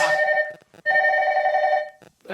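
A telephone rings indoors during a live stream: loud, close bell-like trills in two bursts separated by short pauses, with no voice over them.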